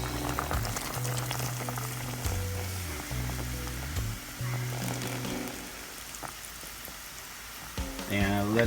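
Beer pours into a hot pot of pork chop stew, setting off a bubbling, boiling sizzle that fizzes steadily up close, with a hum running underneath and a brief louder splash near the end.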